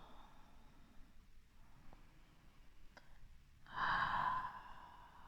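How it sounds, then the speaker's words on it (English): Deep breath in and out during a morning yoga flow, faint and close, with quiet airy breathing building to one fuller, louder exhale near the end. "Deep breath in and exhale."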